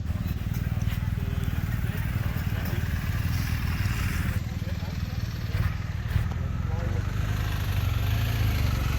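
Motorcycle engines rumble steadily at a campsite with demo KTM and BMW bikes in the rain, a loud, close, continuous drone under someone speaking.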